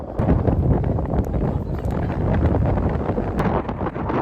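Steady wind buffeting the microphone, a loud continuous low rumble and rush with no talking.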